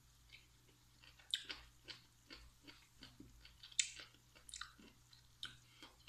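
Quiet, close chewing of chuka seaweed salad, with soft wet crunches and squishy bites in an irregular rhythm and no talking over it.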